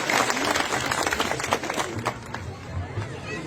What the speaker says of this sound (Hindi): उन लोग के लिए आप सब लोग जोर से ताली बजाओ